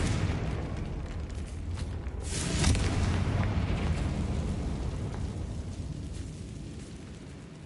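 A Confringo blasting spell explosion in Hogwarts Legacy, a loud, broad rumbling blast that swells around the middle and lingers as a sustained roar without fading away, with no talking over it.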